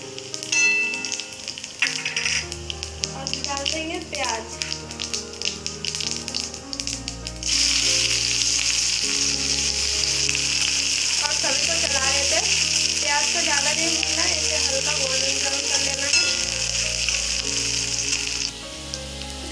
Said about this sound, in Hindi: ओवन के ऊपर कढ़ाई रखकर उसमें हम एक टीस्पून सरसों का तेल ले लेंगे और तेल गर्म हो जाने पर इसमें हम डाल देंगे जीरा